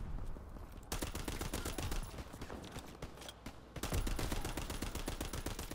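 Rapid automatic gunfire from a powerful weapon in a shooter video game, continuous bursts of dense shots lasting throughout, loud and close with a brief lull near the middle.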